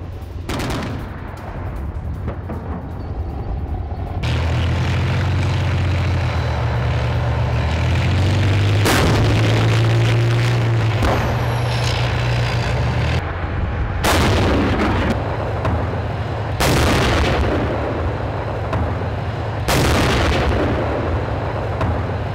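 A K9 Vajra self-propelled howitzer firing at a forward post in Ladakh, with several loud, sharp blasts spaced a few seconds apart over a continuous droning engine rumble.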